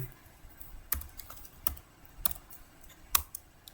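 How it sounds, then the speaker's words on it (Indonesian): Keys on a computer keyboard are tapped while a DHCP pool is configured on a router, producing a few sharp, separate clicks at an uneven pace against a quiet background. "Terus kita ketikkan DHCP R1."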